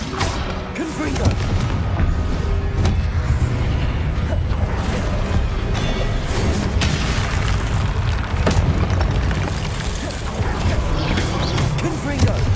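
Blasting spell explosions in the wizarding video game Hogwarts Legacy, a dense run of loud booms and crunching magical impacts that carries on without a break over busy combat noise, with a shouting voice mixed in.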